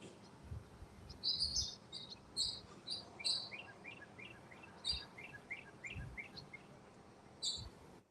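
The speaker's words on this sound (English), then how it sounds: "letting the birds just chirp away" Birds chirp outdoors on a sunny day, with sharp high tweets and quick repeated calls scattered over a soft background hum and faint insect buzz, plus occasional low thumps.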